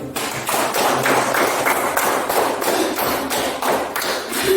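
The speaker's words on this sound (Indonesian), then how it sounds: "Ya, kita tepuk tangan dulu." Schoolchildren clapping together in a classroom, loud and close, a dense run of rhythmic group claps that keeps going without pause and with no talking.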